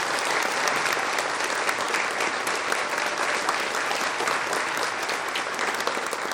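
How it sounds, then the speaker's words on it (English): Dense, sustained applause fills a room at the El Monte Promise Foundation Tamalada event as the crowd honors three outstanding educators, holding at an even level throughout. "Can you please join me in a round of applause for our 3 outstanding educators?"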